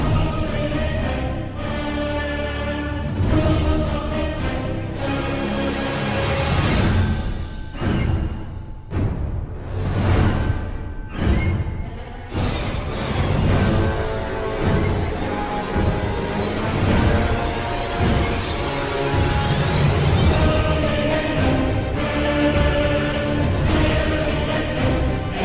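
A music track from the Demon's Souls remake plays loudly and continuously, a dense orchestral piece with sustained strings and heavy percussive hits that build and surge throughout, with no voices over it.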